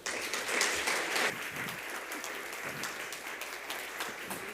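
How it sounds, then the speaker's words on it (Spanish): An audience at a Caribbean economics forum applauds in a sustained, dense clapping that stays steady for several seconds, moderately loud and filling the room. "Recibimos con un fuerte aplauso al señor Felipe Buitrago."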